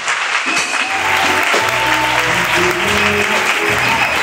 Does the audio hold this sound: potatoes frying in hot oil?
no